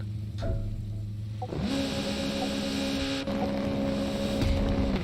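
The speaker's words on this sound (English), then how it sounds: "we'll see if this time we actually get an engine note" Rally car engine in the video game WRC 5 holds a steady, fairly quiet drone that steps up after a moment and carries on, with no one speaking.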